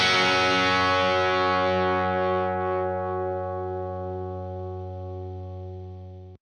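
An electric guitar plays through a real Marshall Plexi amp with overdriven gain: one loud distorted chord is struck and left to ring, sustaining and slowly fading over several seconds.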